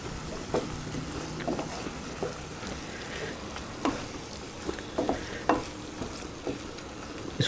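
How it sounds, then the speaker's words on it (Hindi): Minced meat (keema) frying over a low flame in a pan, a steady close sizzle with irregular scrapes and taps of a spoon stirring through it. "अब इसको कीमे को अच्छी तरीके से भूनेंगे"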